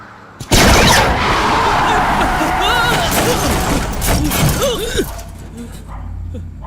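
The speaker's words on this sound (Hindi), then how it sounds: "पता नहीं, शायद टायर पंक्चर हो गया है। लगता है किसी ने रोड पर कीलें बिछाई हैं।" A car tyre bursts on nails spread across the road: a sudden loud, sharp bang, then a sustained rough rushing noise with commotion that fades out near the end.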